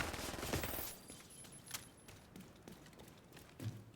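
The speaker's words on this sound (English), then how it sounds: "You can shoot me in the face all you want." Scattered enemy gunfire from The Division 2, a quick opening volley followed by sparse, fairly faint individual shots and clicks over a low background, with no talking.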